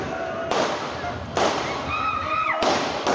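Gunshots in an armed clash between stationery shop workers in a street in Adana: three sharp loud bursts spaced about a second apart, with a voice speaking in between.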